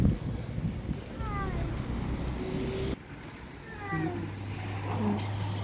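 A cat yowls several times with drawn-out, wavering cries against steady wind and low engine rumble outdoors in Northern Cyprus.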